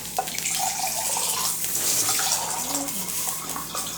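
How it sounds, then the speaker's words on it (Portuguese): Running tap water splashes steadily while a drinking glass is rinsed in a sink, a continuous close wash with faint voice traces underneath. "Eu vou lavar o copo."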